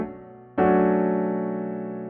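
A piano chord: a low B is held while the upper notes are struck again, ringing loud and full, then sustaining as it slowly decays.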